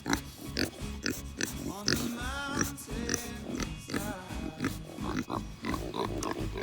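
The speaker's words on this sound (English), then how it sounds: "The pigs want some scratches." Pigs on a homestead grunt and snort up close in a steady run of rough, overlapping vocalizations, with a person's voice mixed in.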